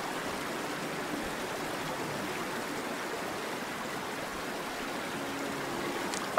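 Flowing water in the Vacation Simulator video game, a continuous even rushing like a stream, moderately loud and steady with no talking.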